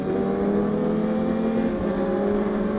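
A Kawasaki ZX10R with a green OJT exhaust idles and revs steadily up close, its engine note a dense, continuous rumble with layered harmonics and no talking over it.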